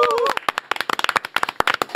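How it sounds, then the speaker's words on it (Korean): Studio audience clapping to welcome a guest on a Korean political talk show, sharp distinct claps in a quick uneven patter, with a brief tone heard first. "박수로 맞이하겠습니다."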